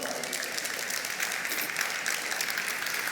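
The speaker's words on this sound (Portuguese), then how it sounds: "Você pode dar um forte aplauso ao Senhor?" A church congregation claps together in strong, steady applause during a sermon, a dense unbroken wash of hands filling the hall.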